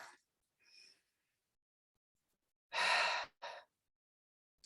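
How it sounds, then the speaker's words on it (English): A slow, deep breath drawn in and then released in a long exhale, with a short second puff of breath after it, close and clear in an otherwise quiet room. "take a nice, deep breath."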